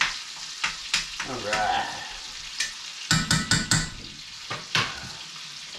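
Broken-up bacon frying in a hot pan on a stove for a breakfast casserole, giving a steady sizzle broken by sharp scrapes and clanks of stirring, close up, with a brief spoken word.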